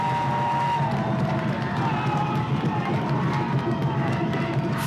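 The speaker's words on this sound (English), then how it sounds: "The Grantsburg crowd getting into it" Home crowd at a Grantsburg high school football game against Mondovi, a steady roar of distant cheering and crowd noise filling the stadium under faint talk.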